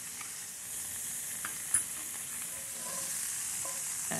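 A pan sauce of heavy cream and Dijon mustard reducing in a frying pan after searing steaks: a steady, close hiss of sizzling with occasional small pops and a brief stirring clink, fairly quiet and continuous.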